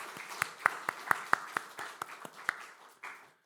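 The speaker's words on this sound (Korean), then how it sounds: "우리 박수로 격려해 주시기 부탁드립니다" A church congregation claps to encourage students after a joint youth service, a scattered round of applause that starts with individual claps, swells into a brief burst and trails off within a few seconds.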